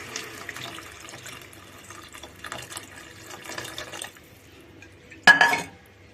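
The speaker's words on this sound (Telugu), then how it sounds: "ఇప్పుడు చింతపండు పులుసు పోసేద్దాం. చింతపండు పులుసు తీసి పెట్టుకున్నాను, పోసేస్తా." Tamarind juice is poured into a pot of simmering sambar vegetables, with soft liquid trickling and light clatter followed by a brief, louder splash near the end. No one speaks.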